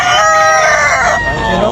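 A rooster crows loudly and close at a busy market in Tabunok, Talisay, Cebu, one drawn-out call over other clucking fowl and faint background chatter.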